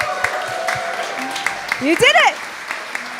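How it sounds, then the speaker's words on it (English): An audience applauds and cheers at a church service after a sermon by a reverend. A whooping voice rises over the clapping for about a second, and a person shouts near the mic. "can we start with a very resounding round of applause"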